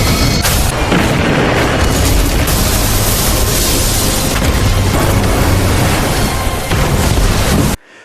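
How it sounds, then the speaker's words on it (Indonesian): In a film about a bullet train bombing, a detached train car carrying a bomb explodes: a loud, dense roaring blast rumbles on for about eight seconds, then cuts off abruptly. "gerbong dengan bom langsung tergelincir dan meledak"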